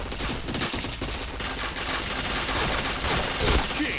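Video game gunfire in a shooter, rapid dense bursts of shots rattling almost continuously and loud.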